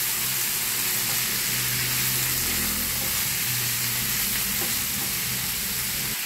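String beans sautéed with chicken in a pan for adobo, giving a steady, close sizzle with stirring scrapes throughout and no talking.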